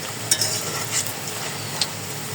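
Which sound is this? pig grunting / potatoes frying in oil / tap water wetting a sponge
potatoes frying in oil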